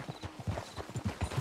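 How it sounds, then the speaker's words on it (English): Hooves of a horse in Red Dead Redemption 2 clip-clop in a quick, steady galloping rhythm, moderately close and fairly quiet, as the animal is ridden off. "She took his horse and she's riding off"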